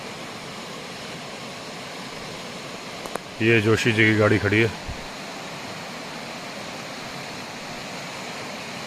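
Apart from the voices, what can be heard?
fast-flowing jungle river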